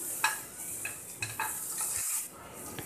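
Chopped onion and red chilli sautéing in a pan, a steady soft sizzle with a spoon stirring and scraping now and then, close and fairly quiet.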